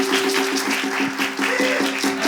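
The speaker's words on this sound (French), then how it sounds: "Avec les acclamations du public, on va installer Daniela." Audience applause and cheers from a live crowd, dense clapping with steady tonal hum or music running underneath, holding at a fairly loud level throughout.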